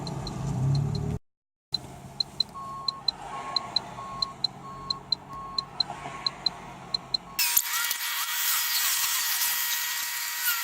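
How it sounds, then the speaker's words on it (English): A flatbed tow truck sits running with a low engine rumble and a steady rhythmic clicking, like a flasher, then the sound cuts to a harsher, brighter noise near the end. "But here's my tow truck."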